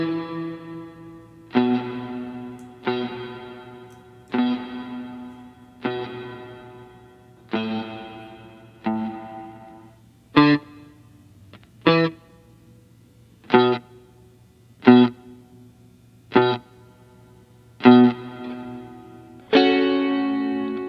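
Electric guitar strums ring out one at a time at a steady pace through a Martinic TG100 reverb, each chord trailing into a long reverberant wash before the next.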